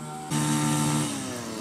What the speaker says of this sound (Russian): Там Раиса Ивановна очень шумит своим триммером.